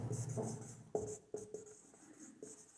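Pen writing on paper, close and quiet, with short scratchy strokes and a few sharper taps as the tip lifts and lands, alone without talk.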